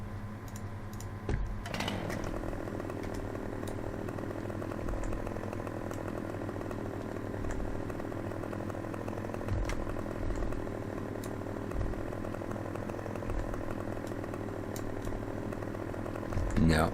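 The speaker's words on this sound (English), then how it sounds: "How about we buy ourselves a chainsaw?" A chainsaw cuts a tree in the Farming Simulator 15 video game on the Cennen Valley map, a steady droning buzz running throughout beneath scattered keyboard clicks and typing.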